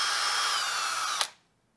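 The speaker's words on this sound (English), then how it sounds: "Just run my drill brush through it, as I said. Clean those threads out." A power drill spins a wire drill brush through the threaded bolt holes of a Renault Scenic 3 rear brake carrier, a loud, steady high whir that stops abruptly after about a second.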